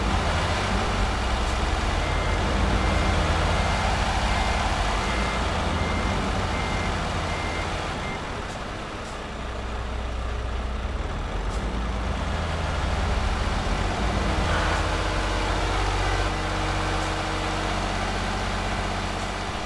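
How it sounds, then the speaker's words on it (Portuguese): Trucks in the video game Euro Truck Simulator 2 produce a long, steady engine drone with droning diesel tones and intermittent reversing beeps, a convoy sound that dips briefly midway before returning at constant loudness. "Ô Alisson, dá uma ajeitadinha nesse caminhão aí"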